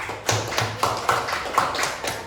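Hand claps from a small audience applauding a presenting group in a classroom, a brief run of fairly sharp, moderately loud claps in an uneven rhythm.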